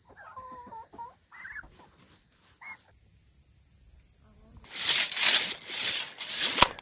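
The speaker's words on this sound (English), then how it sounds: "Come on, turkeys." Turkeys give several short gobbling calls close by over a quiet background with a steady insect drone, followed by a burst of louder broadband noise.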